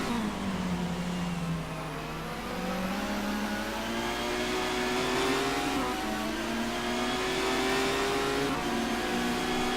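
Touring cars race through the final corners at Rockingham in the rFactor sim, BTCC 2014 season, with loud, continuous engine drone and rising and falling revs as several cars run close together.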